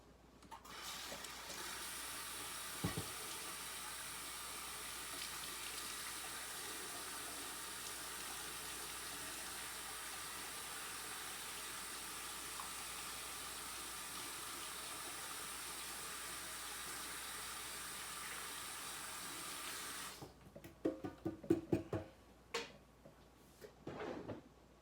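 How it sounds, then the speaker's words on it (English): Water from a kitchen tap runs steadily for about twenty seconds while hands are washed, then stops, followed by clattering cupboard and dish knocks in a home kitchen. "wash my hands again one more time."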